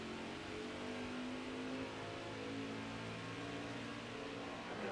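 Race car engines in the NASCAR Heat 5 video game, a steady mid-level drone of several cars running together with a faint whine of acceleration and no voices.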